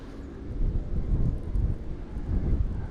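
Steady gusty wind buffeting the microphone on a fishing boat out on the water, a constant low rumbling roar that swells and eases, with no voices.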